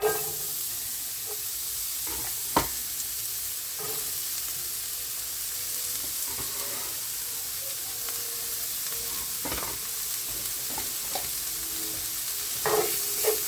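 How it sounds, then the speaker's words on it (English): Chopped onion sizzles and hisses steadily in a hot skillet, a continuous close frying sound with occasional stirring clicks and scrapes, alone without speech. "once your skillet is nice and hot, you're going to add your chopped onion."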